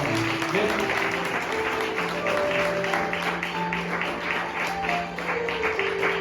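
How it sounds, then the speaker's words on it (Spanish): A church congregation claps continuously and fairly loudly, with music playing in the background. "un fuerte aplauso a Cristo por la vida de nuestro Padre en México"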